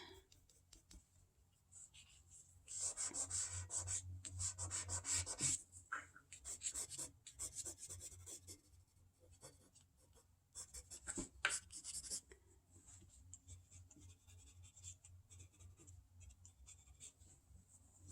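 Pencil sketching on paper, with continuous scratchy strokes in bursts and pauses, close but quiet, and no talking.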